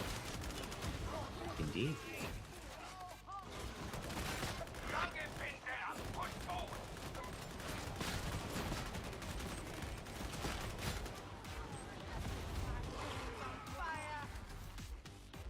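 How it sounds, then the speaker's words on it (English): Sniper rifle fire and other gunshots from the Warhammer 40,000 video game Darktide crackle through dense, busy combat noise, with people talking over the din throughout. "Oh, that's a sniper."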